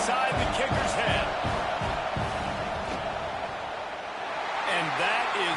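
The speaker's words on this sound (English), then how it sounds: "This crowd trying to do its part to get inside the kicker's head." A college football stadium crowd roars steadily during a fourth-down field goal attempt, a loud continuous wash of cheering and noise with commentators talking over it.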